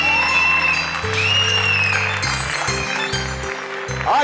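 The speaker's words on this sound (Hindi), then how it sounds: "तालियों से स्वागत कीजिए शिशिर और जिया का" Audience applause welcoming a father-daughter performing duo before an aerial stunt act, a steady clapping wash under music without talk.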